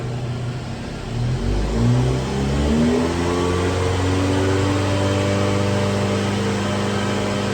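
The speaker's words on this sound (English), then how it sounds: "I shall take the revs up." A car engine is revved up from idle and held at higher revs, giving a loud, steady, close-up engine drone with no voices.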